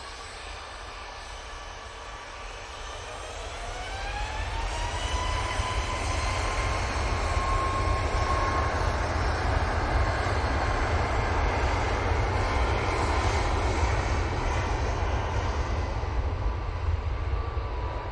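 A Ryanair airliner departs Manchester Airport, its jet roar swelling from a steady rumble into a loud, sustained thrust with rising engine whine, continuing strongly to the end without talk.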